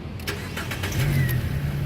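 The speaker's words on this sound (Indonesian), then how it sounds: "Sekarang kita coba nyalakan mobil." A 2013 Nissan Grand Livina 1.5 Highway Star automatic car engine starting up, a brief starter crank quickly catching into a steady close-up idle hum.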